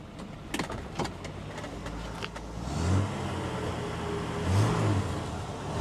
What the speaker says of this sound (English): Rev the engine for me, sir.